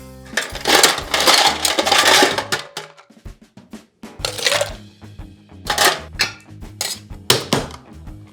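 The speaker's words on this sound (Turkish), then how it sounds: "kivi tamamen parçalamak için buzlarla hem sert hem de uzun shake edeceğim" A kiwi cocktail made with crushed fresh kiwi and homemade tangerine liqueur is shaken hard with ice in a shaker, giving loud rattling bursts of ice in a steady, repeated rhythm with short pauses between rounds.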